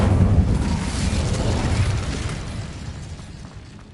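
A fiery Incendio spell blast erupts in Hogwarts Legacy, a loud roaring burst up front that rumbles and slowly fades over several seconds.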